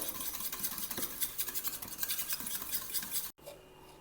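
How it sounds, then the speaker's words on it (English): Fresh homemade yogurt (dahi) being beaten in a bowl for tomato raita, a steady close scraping and whisking that runs continuously for a few seconds and then stops abruptly. "So I am just taking some fresh homemade dahi or yogurt. Beat it very well."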